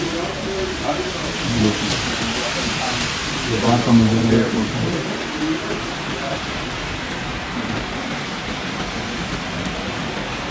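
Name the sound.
rain at night outside Vancouver airport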